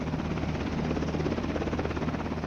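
A UH-60 Black Hawk utility helicopter in flight, a steady throbbing rotor drone with a continuous engine whine, constant and unbroken throughout, moderately loud with no voices.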